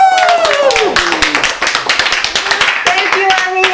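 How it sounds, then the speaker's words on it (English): A large audience of about 3,500 applauds a keynote speaker, dense steady clapping filling the whole stretch at full loudness, with a voice speaking through the applause near the start. "Help me give a warm round of applause for none other than Lou Poretta."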